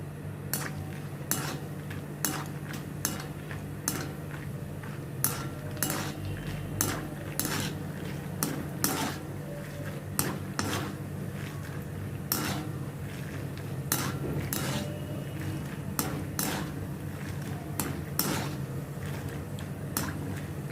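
Roasted peanuts are fried and stirred in a pan, with a steady train of sharp spoon-on-metal clicks and scrapes over a soft frying hiss, close by and moderately quiet, with no voices.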